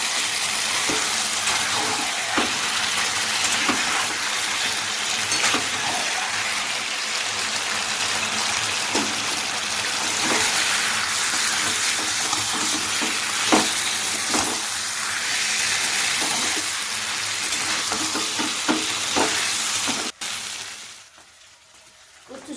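Fish heads frying and being stirred in a pan while cooking taro stems, a steady loud sizzle with scattered scraping and clatter, cutting off near the end.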